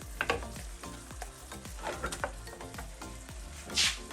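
Rice and prawns stir-fried together in a pan for Malaysian fried rice, a constant close sizzle broken by repeated scraping and tossing strokes of a utensil against the pan.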